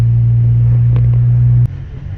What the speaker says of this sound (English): You can actually hear the turbo spool up and go a little bit